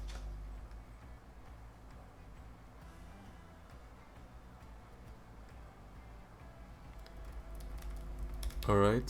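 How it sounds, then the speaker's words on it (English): Typing on a Logitech K380 Bluetooth keyboard, a quiet, continuous patter of light, shallow key clicks heard close up, ending with a brief louder burst. "It feels a lot like a laptop keyboard, and you do not get much resistance from typing"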